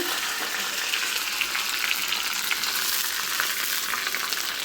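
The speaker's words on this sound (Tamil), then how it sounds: "பொரிஞ்சதுக்கப்புறமா கருவேப்பிலை ஆட் பண்ணிக்கோங்க" Curry leaves sizzle and splutter in hot oil after mustard seeds have popped, a dense, steady hiss with scattered crackles, close up and without talk.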